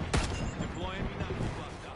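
A single sharp gunshot cracks early in a console first-person shooter, followed by a low rumble of battle noise under a voice speaking nearby.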